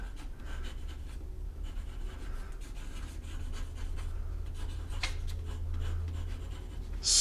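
A fountain pen nib scratches across paper in a steady, close, quiet run of strokes, with a soft low hum beneath and a brief louder rustle at the very end.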